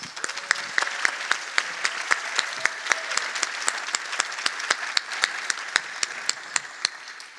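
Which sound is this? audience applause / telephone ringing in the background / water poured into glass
audience applause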